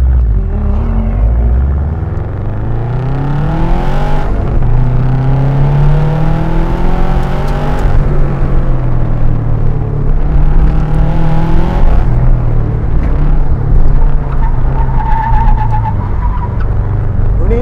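An autocross race car on a timed run holds a loud, sustained engine note that climbs and falls as it revs through gears, with a brief tire squeal near the start.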